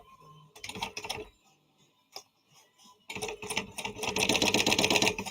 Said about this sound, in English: I'm just kind of continuing that basting stitch over here that's on the zipper.